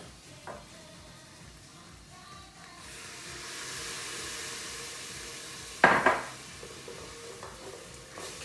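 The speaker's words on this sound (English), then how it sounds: "I'm going to add a little bit of the mushroom, shiitake mushroom stock." Shiitake mushroom stock goes into a hot pan while making an Asian broth, setting off a loud burst of sizzling and steam. A clatter of stirring follows, then the hiss fades to a steady simmer.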